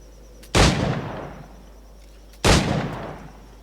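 Two loud, close firearm shots from the pirate game Assassin's Creed IV Black Flag, each a sharp crack with a long decaying tail, spaced about two seconds apart over quiet background.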